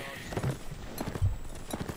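Horse hooves clip-clopping in a video game, a run of quick, light, rhythmic hoof knocks heard under ongoing talk and game sounds.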